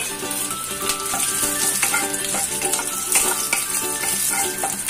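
Cumin seeds, bay leaf pieces and dried red chilies crackle and sizzle in hot oil for a tadka for Punjabi pakoda kadhi, a loud continuous close-up fry with dense popping and no talk.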